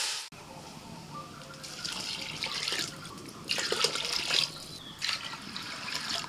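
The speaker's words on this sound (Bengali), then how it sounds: "এবার জল দিয়ে দেব।" Mugfuls of water are poured into a pot of rice and vegetables for pulao, heard up close as several splashing, gurgling bursts of varying strength with short pauses between them and no talking.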